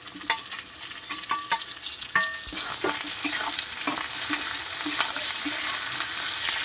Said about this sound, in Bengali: পেঁয়াজটা একটু ভেজে নেব, তারপরে দেব ক্যাপসিকামটা